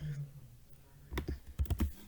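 Light typing on a computer keyboard during an SQL practice session: a quick burst of soft, close key clicks near the end of the short stretch, after a quiet start.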